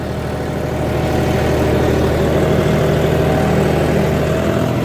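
A John Deere 5310 GearPro tractor engine runs steadily in third gear on light farmland soil, giving a continuous, loud low-pitched diesel drone with a constant rumble throughout.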